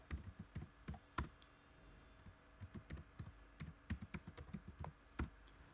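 Username and password typed on a computer keyboard: a quiet, irregular run of close key clicks and taps, some in quick bursts, with brief pauses between.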